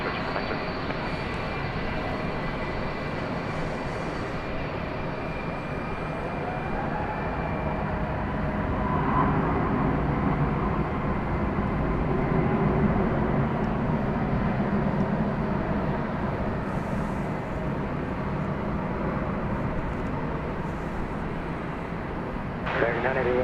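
An American Airlines jet takes off at night from DFW Airport, its engines a long, steady, distant roar that swells in the middle, with radio voices talking over it.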